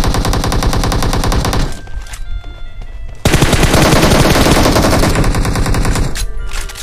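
Rapid automatic gunfire from a video game battle, loud dense bursts of firing with a brief lull in the middle before heavy shooting resumes, then another short gap and more shots, with no voices over it.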